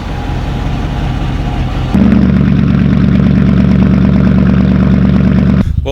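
A truck engine running through a stock muffler, idling steadily, then stepping up to a louder, lower rumble held for several seconds before dropping off, heard close up with no talk.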